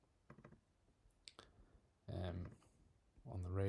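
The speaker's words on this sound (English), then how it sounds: "So again, all I'm doing is double clicking" Faint, quick clicks from a computer mouse being double-clicked while editing automation in Logic Pro X, a few soft taps close to the mic early on, followed by a person talking.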